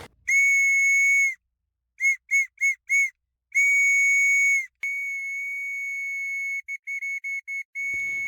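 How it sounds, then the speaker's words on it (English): A wooden whistle on a red paracord snake-knot lanyard shrills loudly alone in a steady high tone, with long blasts broken by short rapid toots, then a sustained blast trailing into quick chirps. "So the first one I tested out was the one with the red lanyard."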